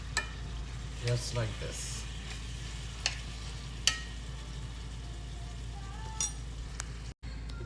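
Beans with a tablespoon of cornstarch stirred in a pot, a soft scraping and shuffling with a couple of light clinks, over a faint steady simmer while a voice speaks briefly.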